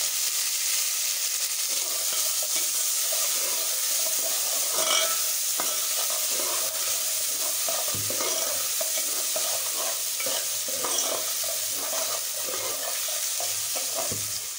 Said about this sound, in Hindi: अब मैं इसमें टमाटर डालूंगी, टमाटर और मिर्च साथ डालूंगी फिर भूनूंगी।